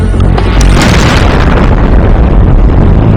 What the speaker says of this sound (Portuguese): Termine o trabalho com um ataque da artilharia.